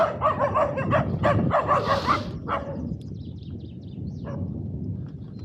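Dogs barking at night near the Romanian border, a run of several loud, close barks and yips in the first half, then quieter distant barking in the background.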